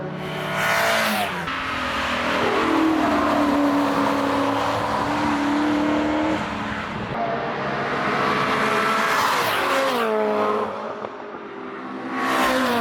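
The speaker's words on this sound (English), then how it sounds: "the circuit was now live, and the roar of engines lit up Brands Hatch" Racing car engines roar loudly and continuously at Brands Hatch during an open pit lane test day, revving up and down through gear changes as cars pass close by on the track.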